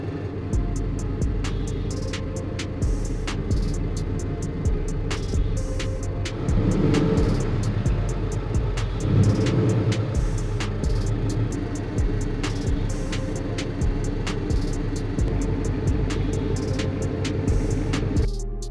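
A Subaru BRZ / Toyota GR86 sits idling with its engine running, a steady low rumble that holds for about nineteen seconds, with regular faint ticking and a slight swell in the middle.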